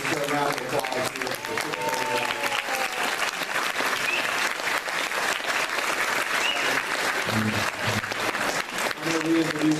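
A room of audience members at a school superintendent candidate forum applauds the candidates, dense steady clapping throughout with some voices and low murmurs underneath.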